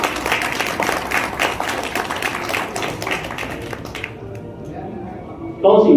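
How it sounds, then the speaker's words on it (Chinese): Audience applause at a real-estate company's award ceremony, dense clapping from a crowd that thins and fades after a few seconds before a louder burst returns, with talk mixed in. "掌声欢迎"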